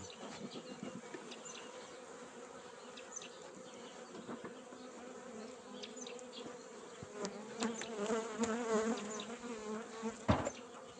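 Honey bees buzz steadily at an open hive during feeding, a dense close swarm drone that swells louder toward the end, with a few sharper individual buzzes passing near.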